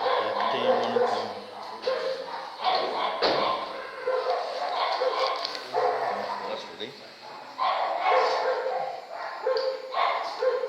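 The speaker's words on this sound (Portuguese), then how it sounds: "Nossa, cachorrada agora tão feliz." Several dogs bark and yip excitedly in quick irregular bursts nearby, loud and overlapping, with some whimpering between barks.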